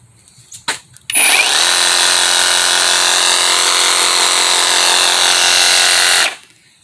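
A Harbor Freight Hercules cordless brushless reciprocating saw runs loud and steady for about five seconds, starting abruptly after a few faint knocks and then cutting off sharply.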